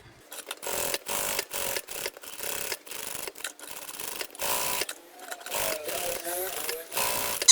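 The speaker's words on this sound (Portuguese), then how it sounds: "Vou costurar toda a volta, prendendo." Sewing machine stitching lining onto a pocket in short close bursts separated by brief pauses, with a voice talking in between the runs.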